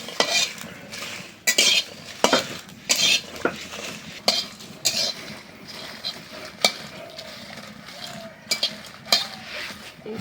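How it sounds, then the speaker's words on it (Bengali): Dried chilies being dry-fried and stirred in a hot pan, a spatula scraping and clattering against the metal in repeated sharp strokes with a faint dry crackle beneath, close and fairly loud, no voices. "মরিচটা ভাজা হয়ে গেল"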